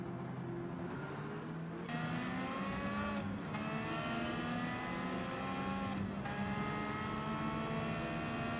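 A simulated race car engine in Gran Turismo 7 revs hard and steadily, its rising harmonic whine climbing and shifting through gear changes for several seconds, loud and close with no talking.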